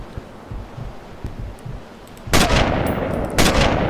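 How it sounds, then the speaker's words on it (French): Long-range sniper rifle fire in Sniper Elite: two sharp, loud shots about a second apart, each with a booming echoing tail, following quieter footsteps and ambient game sounds. "triple tir à longue distance"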